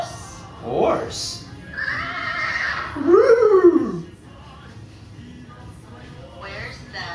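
A horse neighs in a loud, wavering whinny, with a shorter call just before it and a voice nearby.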